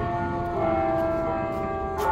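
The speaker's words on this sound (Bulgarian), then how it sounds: "Часа е 12. Камбаните започнаха да бият." Church bells of San Antonio church on the island of Ischia ring at noon, a sustained, resonant ringing tone with struck accents about every half second, heard over a steady outdoor background.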